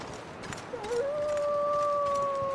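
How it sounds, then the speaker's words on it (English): A wolf howls in the survival video game The Long Dark, one long, steady, rising note that swells and holds over a faint windy backdrop with no talking. "There's a wolf over there."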